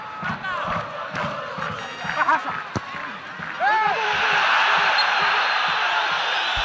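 A football stadium crowd shouts and cheers during a Copa Libertadores match, Cerro Porteño against Santo André, with voices swelling into a loud, sustained roar in the second half.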